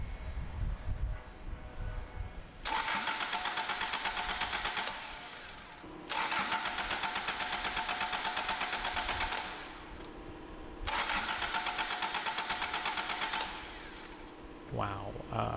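Toyota AE86 engine cranked on its starter three times, each a few seconds of rapid rhythmic churning without catching, separated by brief pauses, close and fairly loud in a quiet workspace.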